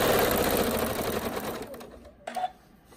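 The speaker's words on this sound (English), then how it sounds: "we'll sew a couple stitches and then go back and forth, just to make it nice and secure right there" A sewing machine runs steadily while stitching a pillow, a fast, even mechanical whir that slows and stops partway through, followed by a short click or two.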